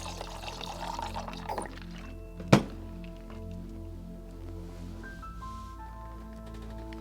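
Cranberry juice trickles into a bourbon cocktail in a bar, a short gentle pour ending in a sharp clink of glass, close by over a steady low room hum, no talking.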